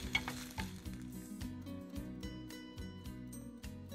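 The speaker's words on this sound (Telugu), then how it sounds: "కొంచెం ఉల్లిగడ్డలు కూడా వేసుకున్నాము. ఓకే, వీటిని కూడా కొంచెం వేయించుకుందాం." Onions sizzling steadily in a hot pan, a continuous close frying hiss with stirring scrapes and clinks of utensil on cookware, with no talk.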